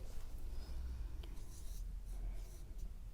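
Pen or marker strokes scratch out a written statement by hand during a Class 9 geometry theorem lesson, quiet, close and steady, with short rubbing strokes and no talking.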